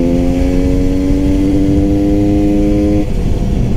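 A GasGas 300 two-stroke supermoto engine hums at a steady pitch, loud and close, then shifts abruptly near the end as if changing gear, with wind rushing underneath.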